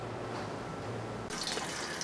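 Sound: hot water spraying from sparger onto grain bed

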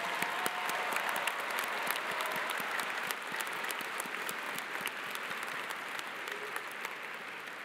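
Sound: audience applause for graduating students

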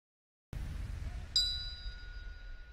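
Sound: bell signalling end of kickboxing round

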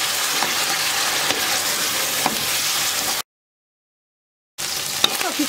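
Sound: chicken frying in oil in a pot

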